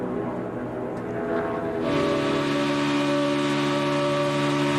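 NASCAR stock car engines drone loudly at Talladega during the 2014 Aaron's 499, a sustained harmonic roar that swells and grows fuller about halfway through.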